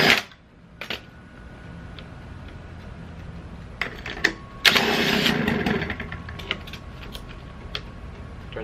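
Small two-stroke leaf blower engine, primed and choked, starting without a pull cord: a few sputtering attempts, then it catches and runs at a loud, steady idle up close.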